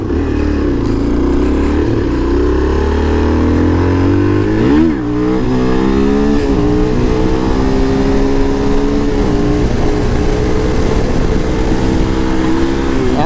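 A Suzuki DR-Z400 dual-sport motorcycle engine revs loudly and steadily up close, its pitch dipping and climbing again partway through, with a continuous rough drone throughout.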